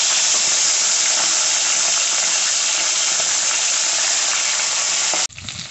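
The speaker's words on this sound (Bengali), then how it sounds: "এবার তেলে মাছের মাথা দিয়ে দেব।" A hilsa fish head frying in very hot oil gives a loud, steady hiss and sizzle with no talking, then cuts off abruptly near the end.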